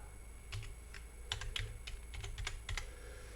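Text is typed on a computer keyboard: quiet, close key clicks in an irregular run of taps with a soft background hum.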